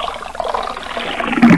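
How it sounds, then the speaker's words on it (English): Cartoon-style cold shower water runs in a steady, continuous splashing stream, loud and close, with no talk over it. "Alright Natsumi, next punishment, getting more very very very very really really really cold shower"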